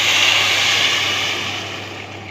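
Hot milk and water are poured onto rice that has been sautéed for three minutes in a hot pan for sweet baked country rice, giving a loud, rushing sizzle that slowly fades over a couple of seconds.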